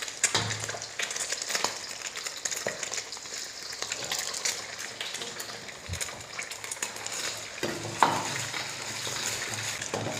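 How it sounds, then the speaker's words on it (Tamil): Two eggs frying in hot oil in a pan at home for fried rice, giving a steady bright crackle and sizzle throughout, with a few soft clatters; no one talks. "2 முட்டை நல்லா பாயில் ஆகுது"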